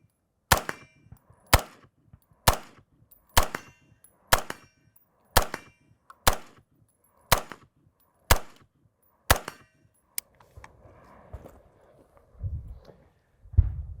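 Ten evenly spaced AR-15 rifle shots crack sharply, each followed by the ring of a C-zone steel target hit at 50 yards, coming about once a second before giving way to quiet shuffling and low rumbles.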